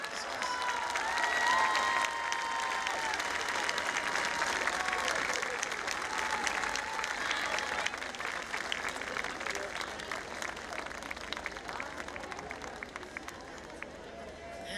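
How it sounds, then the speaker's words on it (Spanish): Sustained audience applause fills the air at an evening music festival, a dense wash of clapping from a large crowd that holds steady throughout, with a few faint voices mixed in. "¡Más fuerte el aplauso!"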